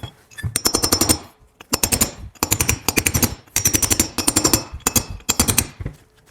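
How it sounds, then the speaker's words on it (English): An impact tool hammers in rapid bursts while driving a knuckle bearing out of an 80 Series Land Cruiser, with several loud, close rattling runs separated by short pauses. "just leave my impacts here and drive it the rest of the way out"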